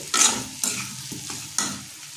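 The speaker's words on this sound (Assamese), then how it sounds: "পানী দি মই ভাজি থাকিম" Duck meat and potatoes sizzle in a hot pan, with several bursts of hissing as the food is stirred or turned, and no talking.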